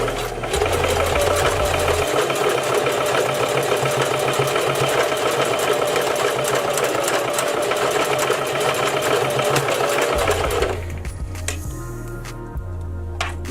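A sewing machine stitching hair weft tracks runs steadily and loudly for about ten seconds with a fast mechanical chatter, then stops, leaving a quieter hum and light clicks.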